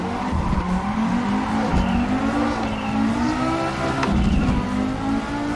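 Engine of a 1980s Group B rally car in a sim racing game, droning steadily near and loud with rising and falling revs and tire scrub through a pendulum turn.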